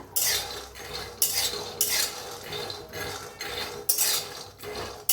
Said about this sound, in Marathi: कडाई चांगली तापली आता शेंगदाणा भाजून घेऊया बघा हलवून